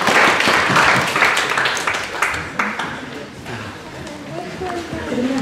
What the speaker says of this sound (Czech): zatleskáme si všichni